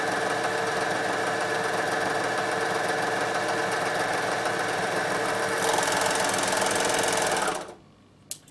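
A Bernina overlocker serger runs at steady high speed stitching a merino winter wrap, a loud, even mechanical whir that continues without a break and then stops abruptly near the end.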